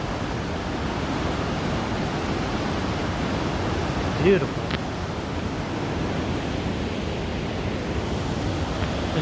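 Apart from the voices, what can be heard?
fast-flowing water of Whatcom Creek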